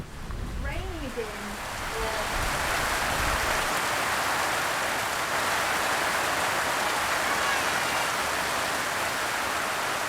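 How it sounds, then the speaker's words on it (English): Steady rain pours down in a remote coastal community near a river, a loud constant hiss that swells after brief nearby sounds at the start and then holds evenly. "It's raining again."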